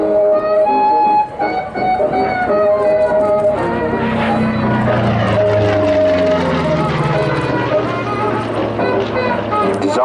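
A P-47 fighter with its large R2800 Double Wasp radial engine drones loudly and steadily at an air show, its pitch shifting as it passes, with a continuous rumble throughout and tonal harmonics over the roar.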